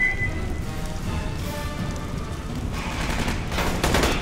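Gunfire in the video game Aliens: Colonial Marines on Hardened difficulty, a dense crackling barrage of rapid shots that swells louder toward the end.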